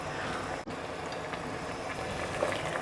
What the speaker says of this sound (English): Now that it's come to a boil